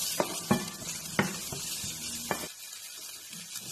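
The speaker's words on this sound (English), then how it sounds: "just put the tomatoes into it. Then mix them well again." Tomatoes sizzle in a frying pan for a quick noodle recipe, with a few distinct clinks and scrapes of stirring before the frying hiss drops away near the end.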